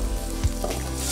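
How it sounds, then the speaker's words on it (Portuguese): Chopped onion sizzles steadily in a pan with anchovy and garlic, a close, continuous frying hiss with one brief soft knock partway through. "Truque aqui, dourar bem a cebola."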